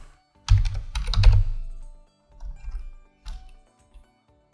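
Keys clatter on a computer keyboard while someone types code for a Gulp task automation setup, in two bursts of brisk, close keystrokes with short pauses between them.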